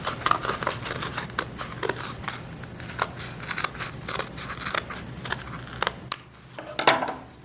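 Repeated crisp snips of scissors cutting a scalloped edge on paper, short irregular bursts close by with brief pauses between cuts.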